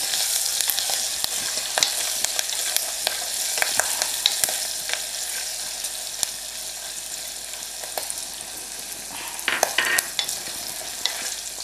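Curry leaves frying in a hot stone pot, a dense crackling sizzle with scattered sharp pops and spatters throughout, close and steady, no voices.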